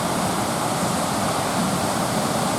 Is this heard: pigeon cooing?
no